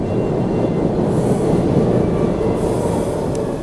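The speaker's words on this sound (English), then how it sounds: "The train is coming," A train pulls into a station with a loud, continuous rumble of wheels on track and a faint high squeal of brakes, close by and steady throughout.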